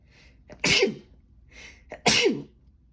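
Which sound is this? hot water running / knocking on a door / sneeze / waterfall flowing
sneeze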